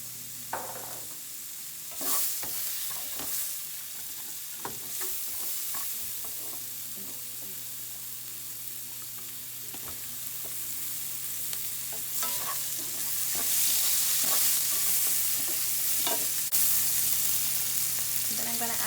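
Onions stir-fried in a hot pan for Chinese shrimp fried rice: a continuous sizzle that grows louder toward the end, broken by scattered clinks and scrapes of a utensil stirring.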